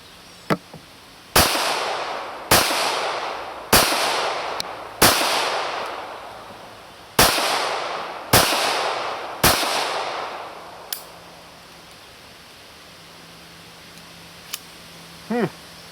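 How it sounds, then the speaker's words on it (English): A Rohrbaugh .380 ACP concealed carry handgun fires eight sharp, loud shots in a row at irregular intervals, each with a ringing outdoor decay, followed by quieter clicks and handling noises. "let's shoot this thing to start out"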